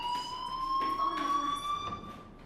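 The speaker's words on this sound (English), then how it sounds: "Hey, do you hear that fire alarm? That means you should be outside." A fire alarm in the video game Life Is Strange rings steadily, a loud electronic tone holding at a constant pitch with high harmonics throughout, with faint background voices.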